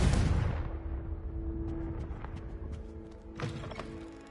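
A Confringo blasting spell in a wizard video game goes off with a loud, close explosive boom that decays into a rumbling, ringing tail, followed by scattered small clicks and a second softer impact.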